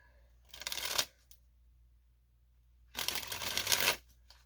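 Two short bursts of playing cards being riffle-shuffled, close and crisp, separated by a couple of seconds of near silence.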